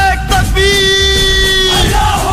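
A large crowd yells and bellows a sustained slogan cry in unison, loud and close, with rough voices swelling together over a continuous roar of people.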